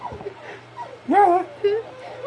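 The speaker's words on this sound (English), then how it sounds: "This is my puppy." A puppy whimpers and yips in short high whines, with a couple of louder bursts near the middle, close by, while people talk around it.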